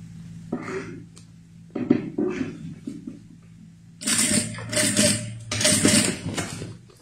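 A sewing machine stitches a synthetic leather toiletry pouch, running in two close bursts with short pauses between them after a quieter stretch of handling.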